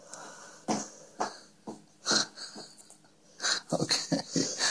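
A sleeping dog snores in a deep sleep, with several irregular raspy, wheezing breaths and snorts, close and fairly loud.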